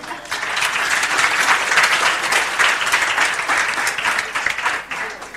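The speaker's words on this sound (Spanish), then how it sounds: "un aplauso para Hulk." Loud, sustained applause from a church audience during a Spanish-language talk on Christian finances, a dense, even roar of many clapping hands that swells slightly and then tapers near the end.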